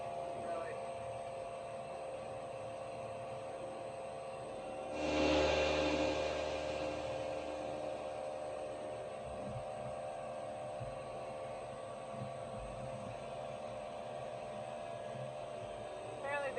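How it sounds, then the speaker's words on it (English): An air compressor runs on a homestead as a steady mechanical drone, with a louder surge a few seconds in before it settles back to an even hum. Faint voices may sit beneath it. "Apparently the air compressor kicked on."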